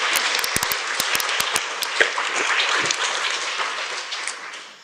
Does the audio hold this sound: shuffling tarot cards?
no